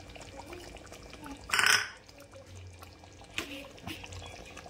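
Chicken stock, left from boiling chicken in milk, poured into a cooking milk dish gives a brief splashing pour, followed by faint drips and kitchen clatter.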